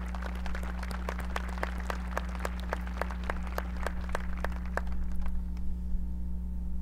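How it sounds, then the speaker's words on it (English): At a ribbon-cutting ceremony for a training support facility, the audience claps for the family. Crisp, fairly regular claps ring out over a steady low electrical hum, then thin out and fade after about five seconds. "Let's give the family a round of applause."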